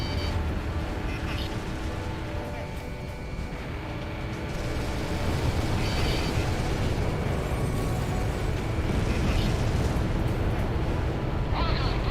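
Rumbling blast of an enemy facility blowing up in the Xbox 360 flight combat game Ace Combat 6, a broad low roar layered over steady jet engine drone, with radio chatter voices speaking alongside.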